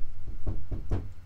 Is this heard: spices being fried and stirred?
no